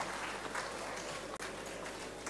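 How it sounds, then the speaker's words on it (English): Audience applause for the speakers at an academia–industry interface session at ISC 2019, a steady, faint wash of clapping with one brief dropout partway through. "with a huge round of applause, let's once again thanks for all the speakers"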